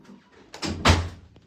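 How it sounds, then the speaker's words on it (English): A door swings and shuts with a solid thud, followed by a faint click, heard close and alone. "I'm going to close the door"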